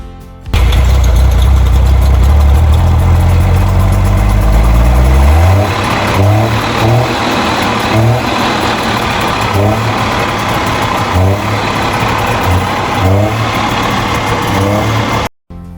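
A 1956 DKW F-91 Universal station wagon engine revs hard right after starting, then drops into a steady idle punctuated by regular throttle blips, loud and close with no talking.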